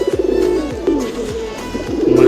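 Pigeons in a rooftop loft, including a pair with a brown-necked male, coo close and loud in repeated rolling phrases, several throaty calls in quick succession, with no talk.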